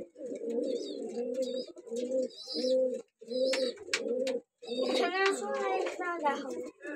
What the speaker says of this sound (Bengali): এই পাখিগুলো আপনাদেরকে দেখাচ্ছি